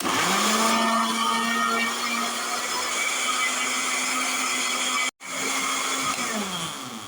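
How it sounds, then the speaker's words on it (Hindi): A juicer machine grinds fruit for fruit chaat with a loud, steady motor whine. It cuts out for a brief moment and then spins back up, close by and with no talk. "ये जूसर मशीन लेकर जिसको हम अच्छे से पहले ग्राइंड करेंगे"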